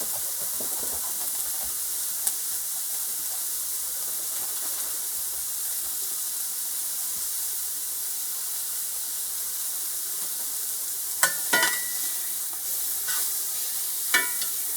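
Onions beginning to cook in a pan for ground beef stroganoff, giving a steady, even hiss of sizzling throughout, with a few sharp clatters of stirring near the end.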